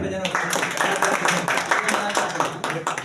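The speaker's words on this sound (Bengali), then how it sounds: "দেখা যায় হাততালি দিন।" An audience claps at a prize-giving during a National Voters' Day celebration, a dense, continuous round of applause mixed with voices.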